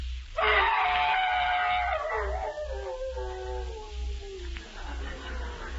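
A voice imitates a hound's howl in one long, loud, wavering cry that slowly falls and fades, performed for a 1939 radio comedy skit on the Hound of the Baskervilles over a steady low hum.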